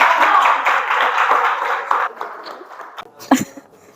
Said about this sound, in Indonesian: kasih kita aplaus dulu ke kelompok